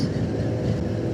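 A train rolls past a road crossing on the Mojokerto bypass during busy early-morning traffic, giving a steady, close, dense rumble with no pauses through the whole moment.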